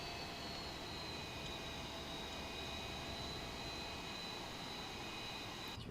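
A heavy airliner taxis in a flight simulator game, giving a steady jet-engine drone with a constant whine layered over broadband rumble, unchanged throughout.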